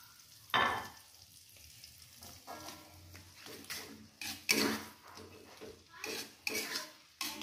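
Onion sizzles in a frying pan while a utensil stirs it, scraping and knocking against the pan in uneven strokes. The steady hiss of frying runs underneath, fairly close.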